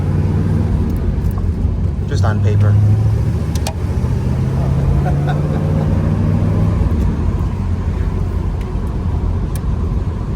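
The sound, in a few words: 1969 Chevrolet Corvette 350 engine and exhaust, top down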